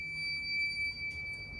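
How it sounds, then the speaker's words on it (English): A fire alarm keeps sounding in the background, a faint, steady high electronic tone that barely changes, distant and alone. "And you can still hear that fire alarm going off."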